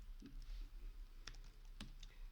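Computer keyboard typing, a few sparse key clicks and taps spread over a couple of seconds against a quiet room background, close and fairly soft.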